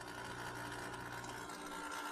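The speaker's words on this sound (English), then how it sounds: "so the vacuum pump will just try to evacuate as much air as possible" A vacuum pump evacuates air from a chamber for a neon sign transformer high-voltage plasma setup, giving a steady close mechanical drone with a rapid rhythmic whir that holds evenly throughout, no voices.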